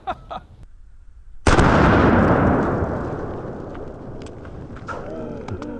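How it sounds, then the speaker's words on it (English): A .357 Magnum revolver fires into a watermelon outdoors: one sharp, loud blast with a long rumbling decay. A few faint clicks come before it, and birds chirp softly near the end. "Let's see what the 357 Magnum does."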